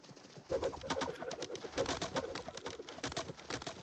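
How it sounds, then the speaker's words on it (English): The bird call whistle emote in the video game LEGO Fortnite Odyssey, a faint cooing bird sound repeating in soft pulses over busy game noise, with no talk. "the bird call"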